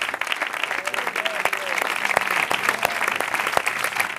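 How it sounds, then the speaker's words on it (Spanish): An audience at a 2016 flamenco forum on the cante of the Seville countryside claps in steady, sustained applause that fills the whole stretch without letting up. "yo quiero recibir con un fuerte aplauso a Manuel Cueva."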